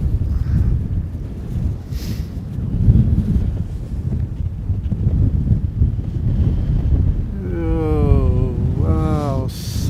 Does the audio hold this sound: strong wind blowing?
yes